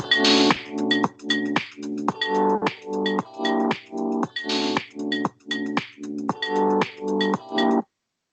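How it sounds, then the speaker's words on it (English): A cowbell sample plays in an Ableton drum loop, giving bright metallic tonal hits in a steady, rhythmic pattern that is loud and close and then stops abruptly near the end. "let me put in a cowbell, and it sounded like this"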